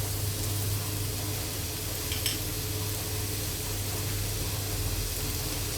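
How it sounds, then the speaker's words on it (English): Pork frying in its own fat in a dry pan, a steady close sizzle with a brief clink of utensils partway through, continuous and even with no one speaking. "While the pork fries in its own fat"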